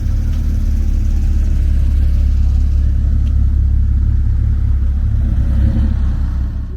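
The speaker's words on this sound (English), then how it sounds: "That's a beastly Porsche." A Porsche GT3 RS engine idles and revs in a private garage in Scottsdale, a loud, close, steady low rumble throughout with no clear speech.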